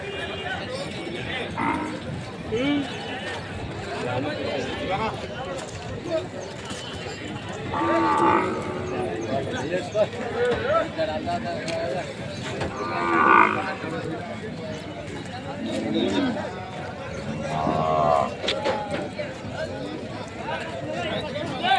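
Cattle bulls moo intermittently at a busy livestock market, several drawn-out calls rising over continuous crowd chatter and nearby talking.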